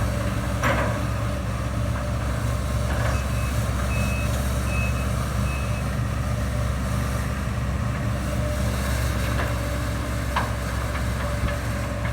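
A backhoe arrives to clean out a pond: its engine drones steadily throughout while intermittent reversing beeps sound over it, with no talking.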